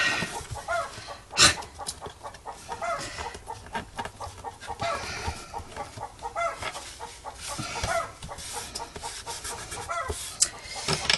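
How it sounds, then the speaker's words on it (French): Hen cackling loudly after laying an egg, a run of repeated clucks and squawks with other chickens close by on a farm. "Je crois qu'il y en a une qui a pondu"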